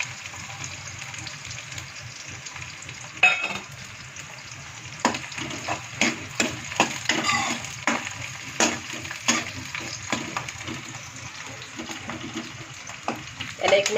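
Onion, garlic, ginger and coriander frying in a pan for chicken kheema, a steady sizzle with repeated scraping clatters of a spoon as it is stirred, close and moderately loud.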